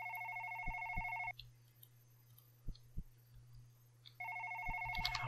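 A phone rings in two bursts of an electronic ringtone separated by a quiet gap, at moderate volume in an indoor room, with a steady low hum and occasional soft clicks or thumps.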